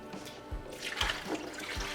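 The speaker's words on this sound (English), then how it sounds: "Everything is gently rinsed." Water splashes and gurgles over the plastic parts of a cask widget attachment nearby, with a few soft thuds and dribbles as they are rinsed.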